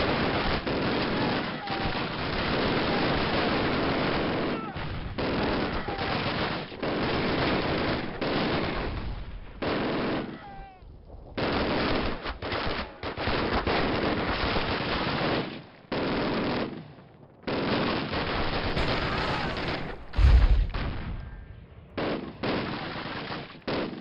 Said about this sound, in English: Grab that MG42 and use it.